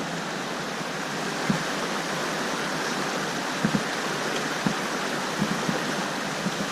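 A river rushes through the canyon of the Subway in Zion National Park, a steady broadband wash of flowing water with a few faint knocks and splashes scattered through it.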